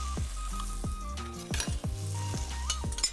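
Ginger garlic paste fries in a pan of tomato gravy for a restaurant-style chicken jalfrezi, a steady close sizzle broken by repeated clinks and scrapes of a spoon stirring against the pan.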